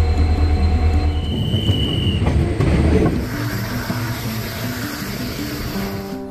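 The Tutari Express, a Dadar to Sawantwadi passenger train in the monsoon, rumbles loudly and steadily with clattering wheels and brief squeals, its engine drone constant and close throughout.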